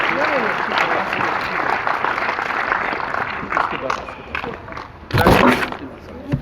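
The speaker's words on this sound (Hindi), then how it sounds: "तालियों के साथ स्वागत कीजिए इंस्पेक्टर विजय दुबे जी" An audience at a digital-safety workshop on fake news and cyber crime at Praxis Vidyapeeth bursts into sustained applause to welcome Inspector Vijay Dubey, with voices talking over the clapping and a louder swell near the end.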